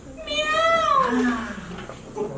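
A cat gives a single drawn-out meow that rises and then slides down in pitch, close and fairly loud, with quiet background noise and no talking.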